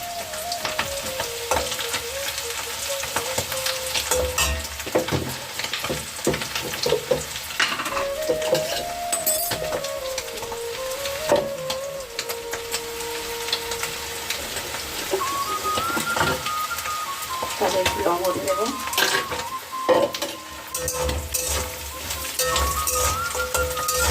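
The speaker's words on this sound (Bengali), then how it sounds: "পেঁয়াজ কাঁচা লঙ্কা আর হচ্ছে কালো জিরে কাঁকড়াটা ভালো করে ভাজা ভাজা করে নেবো" Crab fries with onion, green chili and nigella seeds, giving a steady close sizzle. Stirring scrapes and clatters through it continuously.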